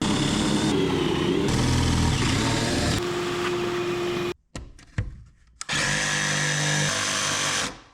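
A power tool cuts an opening in the rough wood framing for a kitchen range hood, running loud and steady, stopping briefly with a few clunks partway through, then whining on again.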